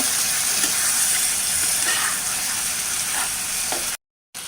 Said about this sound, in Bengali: ঢাকনাটা তুলে নিলাম অনেক ভালো হচ্ছে নাড়াটা করে দিব